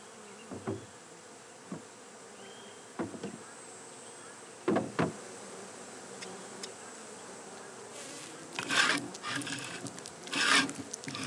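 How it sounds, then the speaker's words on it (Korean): Bees buzz faintly around a hive while a farmer scrapes drone comb off the frames, with scattered scraping and rasping strokes that grow louder and denser toward the end, no talking. "농부는 매일같이 숯벌집을 깎아 없앱니다."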